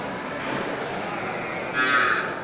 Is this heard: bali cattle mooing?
yes